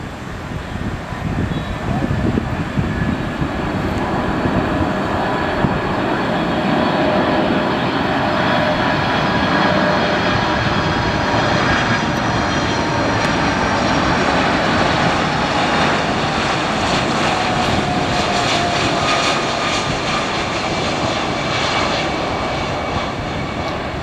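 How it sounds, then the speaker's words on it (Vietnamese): China Airlines Boeing 747 cargo plane landing at night at Tan Son Nhat airport, a loud, steady roar of jet engines sustained throughout with a broad rumbling wash and no talk. "Chắc có lẽ đây là lần đầu tiên mọi người thấy Boeing 747 hạ cánh trong đêm đúng không?"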